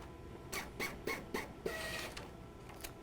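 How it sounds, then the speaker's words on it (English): A newly installed Epson ColorWorks C6000 inkjet label printer runs a print job, giving a series of soft mechanical whirs and clicks about every quarter second over a steady hum, close and fairly quiet. "let's print a beautiful label with our brand new installed printer"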